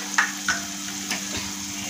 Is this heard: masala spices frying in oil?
yes